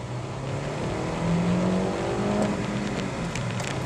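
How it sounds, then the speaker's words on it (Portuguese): A 2011 Honda Civic LXL with a manual gearbox accelerates on the road, its engine drone climbing steadily in pitch over a few seconds, loud and continuous with road and wind noise, no talking. "Só para ter a sensação mesmo de como que esse carro acelera"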